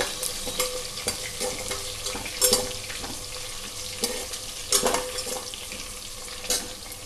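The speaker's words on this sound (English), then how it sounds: "We have to fry them until they get into a golden brown color." Stuffed eggplants frying in oil until golden brown for a one-pot gutti vankaya curry, with onions and salt: a steady close sizzle broken by occasional scraping stirs, no voices.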